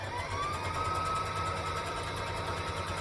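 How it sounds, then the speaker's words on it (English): A sewing machine stitches in the ditch along a skirt seam, giving a steady, close mechanical whirr with a fine rapid needle chatter that runs without pause for about three seconds. "I'm going to stitch forward and back"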